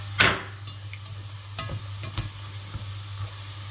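A soft, steady sizzle of chak-chak dough pieces frying in oil, with a few light clicks and taps of a utensil and one brighter scrape near the start.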